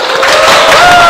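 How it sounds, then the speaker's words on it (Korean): A short burst of applause swells quickly, steady clapping mixed with light cheering, loud and close. "박수!"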